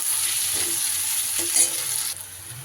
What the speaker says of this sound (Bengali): পেঁয়াজটাকে একটু বেশ লাল লাল করে ভেজে নেব।